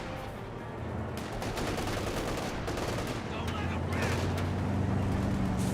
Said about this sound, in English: They got this guy now getting suppressed by the 50 cal.